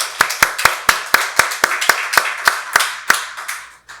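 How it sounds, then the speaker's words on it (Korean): A church congregation claps together during a Sunday worship service, giving glory to God. The claps come as a steady, brisk run of about a dozen sharp, evenly spaced beats, loud and close, with no talking. "박수로 하나님께 영광 돌리겠습니다"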